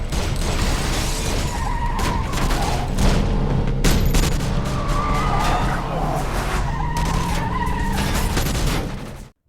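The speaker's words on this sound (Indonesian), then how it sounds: "Mereka terus melepaskan tembakan dan saling mengejar" Loud, busy film action scene during a heist with bursts of gunfire in a chase, screeching tires and engine roar, impacts and effects layered densely throughout.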